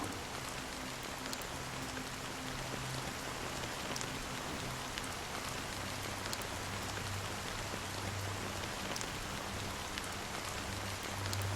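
Rain falls steadily in the video game Honkai Star Rail, a dense, even patter on surfaces with scattered sharper drops, heard alone without talk for the whole stretch.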